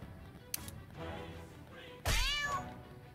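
A cat in the South Park: The Stick of Truth video game gives one loud, drawn-out meow near the end, after a few soft thumps and rustles.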